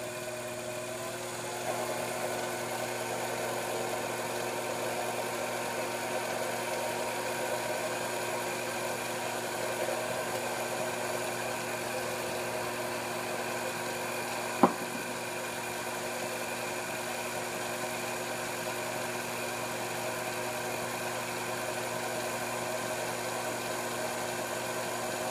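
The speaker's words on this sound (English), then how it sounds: "let's go ahead and take a test cut on some 1-inch aluminum round stock here" A mini lathe turning 1-inch aluminum round stock runs with a steady, even motor hum and faint tonal whine, broken once by a single brief tick, and no one speaks.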